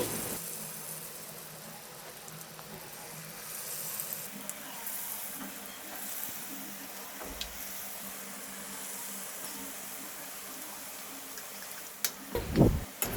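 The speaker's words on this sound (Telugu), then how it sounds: "ఇప్పుడు మిగతా వాటిని కూడా ఇదే విధంగా ఈవెన్గా కలుపుకుంటూ ఫ్రై చేసుకోవాలండి" Rava punugulu fritters deep-frying in hot oil give a steady, soft sizzle with small crackles throughout, and a brief scraping stir near the end.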